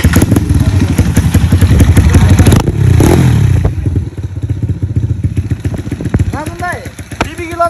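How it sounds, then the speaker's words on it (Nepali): Motorcycle engine running loud and close, popping and clattering through a rough, misfiring idle and revving, with people talking over it. "बाइक किन पड्काए"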